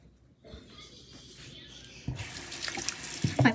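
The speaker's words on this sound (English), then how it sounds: "I'm gonna have to wash my hands off." Water runs from a tap into a sink during hand washing, starting quietly and growing into a louder splashing gush with faint clatters, close by and without talk.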